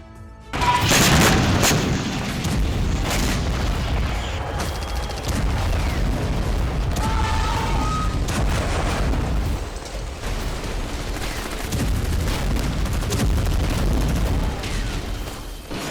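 War footage from the West Bank conflict, with a loud burst of explosion and bombing at the start, then a continuous dense rumble of gunfire and blasts that stays heavy throughout, with no clear talking.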